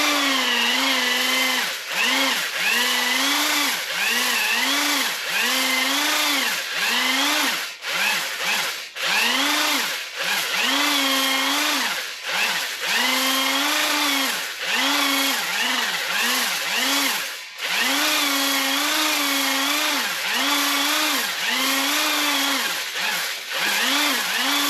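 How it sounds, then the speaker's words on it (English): Ball hone spun by a fast drill inside Ford 302 engine cylinders, a loud, harsh, whining scrape that surges and dips in pitch with each stroke, steady for a long stretch with a few brief pauses. "this drill is pretty fast, actually too fast, so we're not going to go full speed on it"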